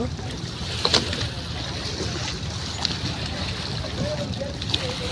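Trawler boat on the rough, windy Meghna River near a ferry ghat, a continuous low engine rumble mixed with wind and splashing water, close and steady throughout.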